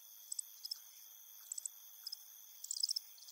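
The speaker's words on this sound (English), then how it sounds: "There are about 20 million crickets in these rooms." Crickets chirping in a cricket farm room holding millions of insects, a dense field of high, rapid chirps in short repeated bursts over a constant high buzz, close and steady.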